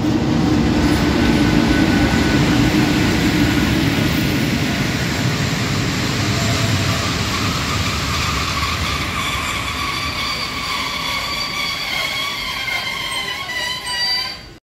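Hungarian train made up of Szili and Rába railcars running on a renovated line, a loud steady rumble of wheels on track throughout with rising tonal whine from the running gear toward the end.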